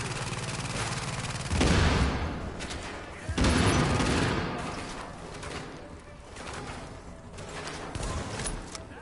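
Heavy gunfire during a Global Event assault in the video game The Division 1.7, with dense bursts of shots rising and falling across the stretch under game sound, with bursts loudest near the start and middle.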